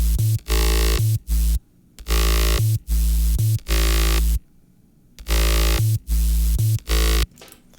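Heavy electronic sub bass and mid bass play together in a colour bass remix, loud rhythmic bursts chopped by abrupt silences, with deep low end under buzzy gritty mids.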